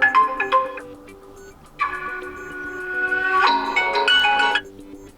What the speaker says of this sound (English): just pick the ringtone that you would like to apply